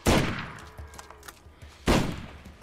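Gunfire in the video game Borderlands, a sharp loud burst at the start and another near two seconds, with fainter scattered shots and game noise between, no talk.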